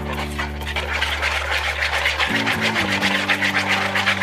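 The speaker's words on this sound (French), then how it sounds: "On va remuer le tout dans un premier temps avec le batteur." An electric hand mixer beats coconut cake batter with a steady close whir, its motor pitch dropping partway through as the beaters work the mix, with no talking.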